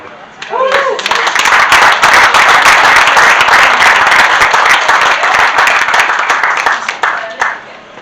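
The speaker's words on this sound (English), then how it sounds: "we'll clap it up for Austin" Audience at a New England homesteaders' fall gathering claps for a presenter, a loud, dense burst of many hands that swells quickly, holds for several seconds, then tapers off.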